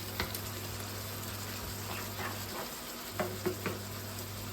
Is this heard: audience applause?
no